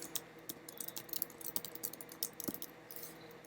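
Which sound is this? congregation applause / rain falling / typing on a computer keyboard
typing on a computer keyboard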